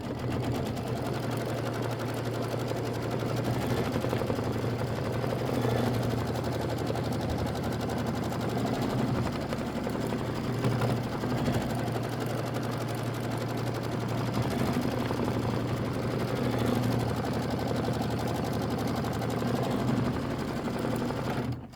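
Embroidery machine stitching out a Kimberbell Christmas quilt block, a fast continuous mechanical rattle with steady rhythmic needle strikes, close and unbroken throughout.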